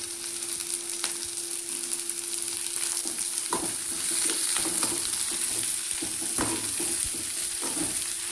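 Onion, beans, carrot and raw mango sautéing in hot oil for sambar, a steady close sizzle with intermittent scraping stirs of a spatula against the pan.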